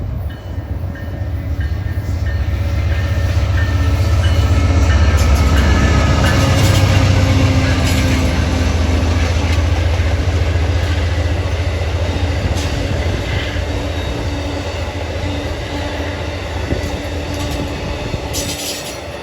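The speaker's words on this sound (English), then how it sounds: "Comes a northbound Amtrak by at 120." A northbound Amtrak train hauled by a P-42 locomotive rushes past at high speed, a loud sustained rumble of wheels and cars with faint rail squeal and clatter, swelling and then easing off.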